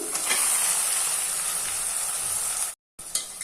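Fish pieces sizzle and spit hard in hot oil in a pan for a tamarind curry, a loud, continuous fry with a brief drop to silence near the end.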